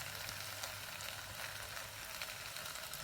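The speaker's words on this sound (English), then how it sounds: "You get the mince and you just break it up a little bit, bob it into the pan." Beef mince sizzles in a pan as it is broken up for a cottage pie, producing a steady, soft crackling hiss at low volume with no distinct strokes and no talking.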